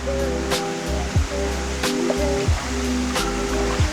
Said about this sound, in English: Absolutely beautiful waterfall here.